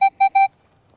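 Three quick electronic beeps from a Minelab X-Terra Elite metal detector giving its non-ferrous tone, the last slightly longer, bright and close, then quiet.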